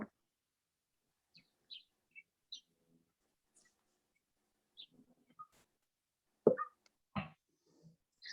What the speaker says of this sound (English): I hear some birds in the background.